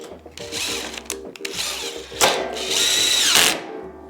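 A power drill whirs in repeated short bursts and then one longer sustained run, close and loud, backing bolts out of a utility cart with a pull-out tray.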